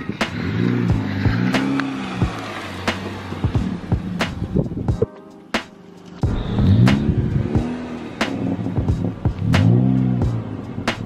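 A modded 10th-gen Honda Civic Si with a muffler-delete exhaust idles and revs nearby, loud raspy engine with repeated rising blips and sharp pops, briefly dropping quiet mid-clip before revving again.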